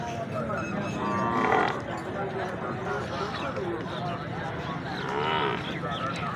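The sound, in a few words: buffalo at a cattle market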